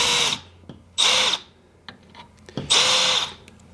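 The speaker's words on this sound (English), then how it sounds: "I'm just trying to drill basically the flange off where the rivet is bent over." Power drill grinding into the bent-over rivet flange on a metal transmission cooler bracket, three short bursts of high-pitched whine with quiet pauses and small clicks between, close and loud.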